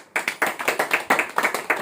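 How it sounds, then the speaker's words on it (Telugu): A church congregation claps loudly in a quick, steady rhythm of about a dozen close, crisp hand claps in under two seconds, with no voices over them. "గట్టిగా చప్పట్లు కొట్టండి"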